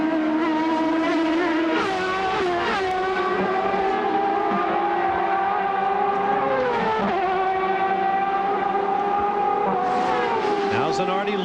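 CART IndyCar race cars scream around the 1997 Cleveland street circuit, their high engine notes rising and falling through gear changes, with a commentator talking over the loud, continuous racing.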